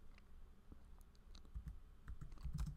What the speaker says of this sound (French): Je tape un petit peu quelque chose